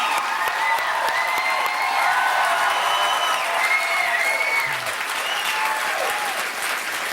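Audience at an improv comedy show applauding the evening's three improvisers, steady dense clapping throughout with faint cheering and overlapping voices mixed in.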